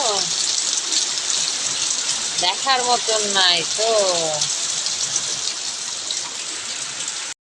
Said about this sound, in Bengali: এত জোরে টিনের চালে জল পড়ছে